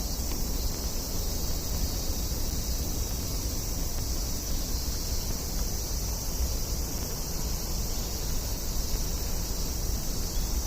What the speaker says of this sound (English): Noisy, yeah, cicadas are noisy.